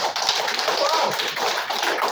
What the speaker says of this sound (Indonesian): Puji Tuhan, tepuk tangan.